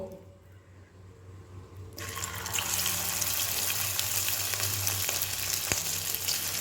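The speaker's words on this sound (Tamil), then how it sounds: "இப்போது நம்மளோட சிக்கன்லாம் பொரித்து எடுத்துப்போம்" Masala-coated chicken for chilli chicken drops into hot oil in a kadai; after a quiet start, a loud, steady deep-frying sizzle bursts in and continues crackling close up, with no voices.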